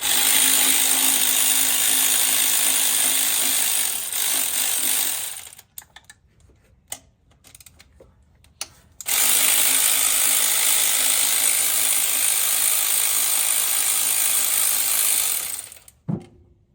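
Bolts come off a bracket on a Jeep 4.0 intake manifold with a power tool: two long, loud whirring bursts separated by a quiet pause with a few light clicks, then a brief tool touch at the end.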